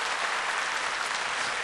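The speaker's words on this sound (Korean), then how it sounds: "큰 박수로 격려해 주십시오." A church congregation applauds, a loud, steady wash of many hands clapping that fills the room evenly, with no voices above it.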